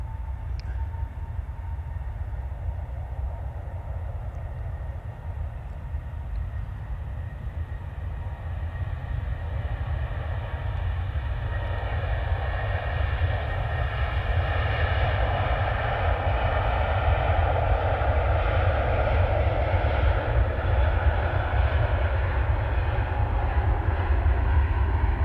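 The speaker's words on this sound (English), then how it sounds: "next departure, the awesome A350-1000, Singapore Airlines" A Singapore Airlines Airbus A350-1000 departs, its jet engines building from a distant rumble into a loud, sustained roar with a broad whine that swells as it powers away.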